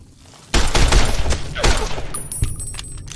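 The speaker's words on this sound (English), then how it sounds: "I think I just shot Chalk in the ankle" Gunfire in the video game Fallout New Vegas: a sudden burst of several sharp shots in quick succession, loud and close, with ringing tails that fade over a few seconds.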